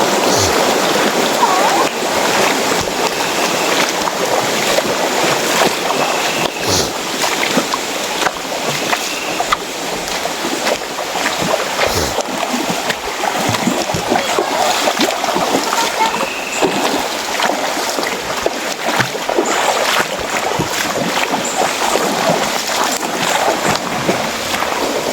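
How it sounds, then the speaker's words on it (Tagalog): Rushing water from Purok Waterfalls, heard as a steady broadband roar that stays loud and unbroken throughout, with occasional splashes and a faint voice now and then. "Nakikita na namin ang talon."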